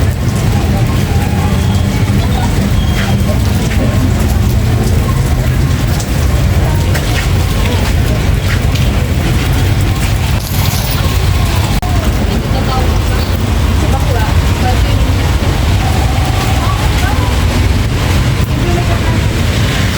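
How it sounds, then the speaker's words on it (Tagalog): Steady, dense hiss of rain pouring down without pause, loud and close, with faint voices and low rumbling mixed underneath. "Walang tigil ang ulan."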